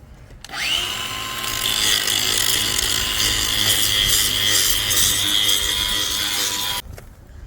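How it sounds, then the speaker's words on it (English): A power grinder runs continuously against the inside of a 6-inch steel well casing, a loud, steady high-pitched whine and grinding rasp that starts abruptly and cuts off after about six seconds. "grinding the inside of that 6-inch well casing so our well seal will slip in there"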